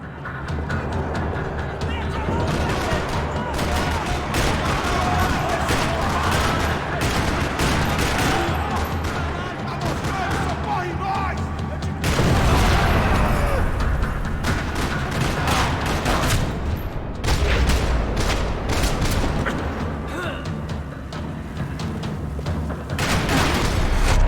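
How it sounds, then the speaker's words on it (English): Sustained rattling gunfire with bursts and booms echoing across a parking lot, loud and continuous, with a heavier burst about halfway through and voices mixed in underneath. "Another parking lot rattling with gunfire."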